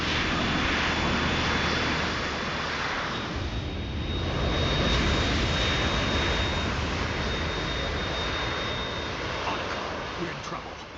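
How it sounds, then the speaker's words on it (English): A Harrier jet aircraft in the video game Metal Gear Solid 2 gives a loud, continuous roaring engine rush that swells and stays steady for several seconds. "We're in trouble. It's the Harrier."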